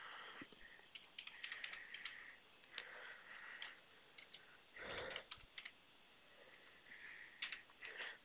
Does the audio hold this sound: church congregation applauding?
no